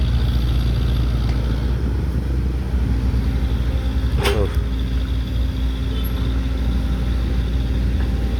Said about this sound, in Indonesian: Lagi ngisi mobil dump truck teman-teman.